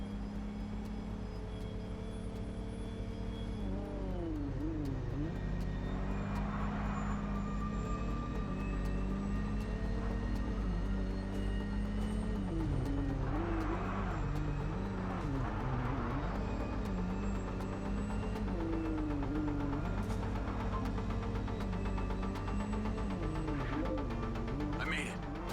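A car drives in the video game MindsEye, its steady engine drone shifting pitch as it speeds up and slows, with game music and vehicle noise running throughout under occasional talk.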